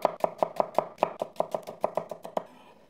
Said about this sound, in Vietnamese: Nửa củ hành tây khoảng 65g, cắt nhỏ.